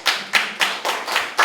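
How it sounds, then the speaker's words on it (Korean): Clapping breaks out in a lecture hall during a talk on labor union history, about six sharp, evenly spaced claps in quick rhythm, close and clear with no talking over them. "박수 한번 쳐줘야 되는 거 아니에요?"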